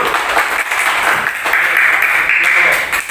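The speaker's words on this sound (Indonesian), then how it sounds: "Tepuk tangan untuk kelompok 3 dulu" A class of elementary school pupils applauds a group presenting in a lesson, a dense wash of clapping filling the whole span at steady loudness, with some voices mixed in.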